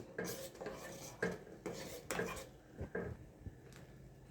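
Ragi java with jaggery being stirred in a metal pot, a spoon scraping and clinking in a steady rhythm of strokes, close and fairly quiet, then slowing to a few lighter taps, with no talking.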